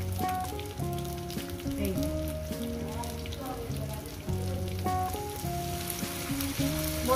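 Ground spice paste of cumin, coriander powder, ginger and turmeric mixed with water sizzles in a hot pan for a fish-head spinach curry, a close steady crackle heard under a voice and background music.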